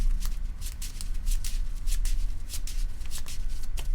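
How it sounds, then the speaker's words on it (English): A deck of cards is shuffled during a Keyforge tabletop card game tournament: quick, repeated crisp riffles close by, fairly soft, with no talking over them. "And then shuffle and draw."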